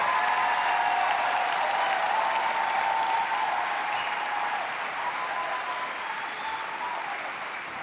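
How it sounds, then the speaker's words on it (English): An audience applauds steadily at a televised Make America Healthy Again special. The dense clapping holds for several seconds and fades slightly toward the end. "Can we please get a round of applause for Bobby Kennedy and Donald Trump"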